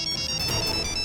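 A phone rings out on a call to a friend, a short electronic ringtone tone sustained over a faint noisy background, no voices.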